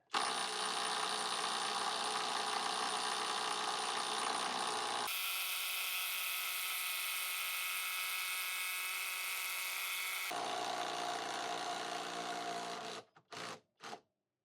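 A Skil PWRCore 12 3/8-inch brushless impact wrench hammers in a loud, continuous buzzing rattle for about thirteen seconds, shifting tone midway, then stops with a few brief final bursts.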